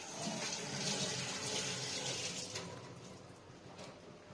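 Running tap water splashing steadily over freshly picked garden mint being washed, a close continuous hiss and gurgle that eases slightly toward the end.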